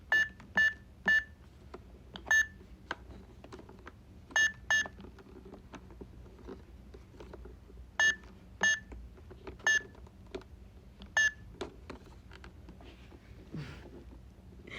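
An electronic keypad safe emits short, bright, close beeps as the code 0000 is entered, coming in small clusters of two or three presses separated by pauses, with faint handling noises in between.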